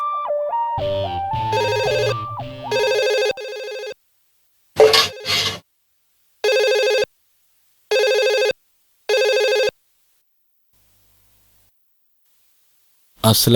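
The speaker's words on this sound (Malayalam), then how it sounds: "ഫോണിന്റെ ബെല്ലടി കേട്ടാ ഞാൻ എണീറ്റ" A telephone rings in repeated electronic bursts with silent gaps between them, following a short melodic tone sequence at the start.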